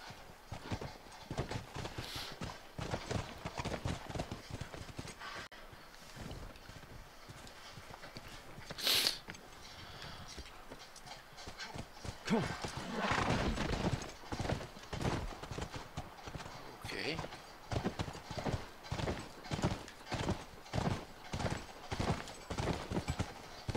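Steady horse hooves clip-clop at a walking pace in The Last of Us, close and continuous, with a brief horse snort partway through and no talking.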